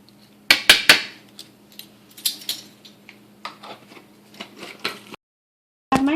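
A metal spoon scoops a generous tablespoon of chicken bouillon into homemade salsa, giving sharp clinks and taps against the container, then a brief pause and a final clatter.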